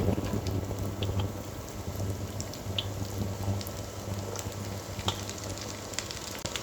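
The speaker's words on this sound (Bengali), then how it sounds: "পেঁয়াজটাকে নরম হয়ে আসা পর্যন্ত একটু ভেজে নেব এ পর্যায়ে আমি শিম দিয়ে দিচ্ছি" Chopped onions in oil hiss in a pan as green beans are added, a steady soft sizzle with small crackles throughout, fairly quiet and close, no talk.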